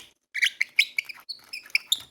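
A played recording of a nightingale singing gives quick, bright chirps and whistled notes in an irregular chattering run, clear and alone after a short silence.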